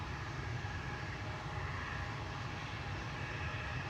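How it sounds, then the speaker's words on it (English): A KLM Boeing 737 departing Amsterdam Schiphol for Lyon, a steady, fairly distant broadband engine roar holding level without a break. "This is KLM flight 1431 to Lyon"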